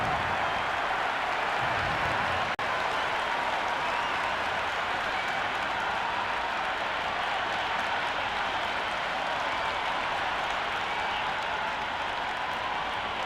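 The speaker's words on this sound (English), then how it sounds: "The crowd are making a heck of a lot of noise even before the first ball's been bowled." A stadium crowd at a cricket match in Cricket 26 keeps up a steady roar of applause and cheering, broad and continuous, with no voices standing out.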